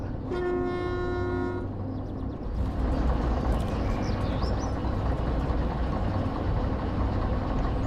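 A passing train in a truck-driving simulator game, a long harmonic horn blast sounding for about a second and a half before the heavy rolling rumble of the railcars takes over and continues loud and steady to the end.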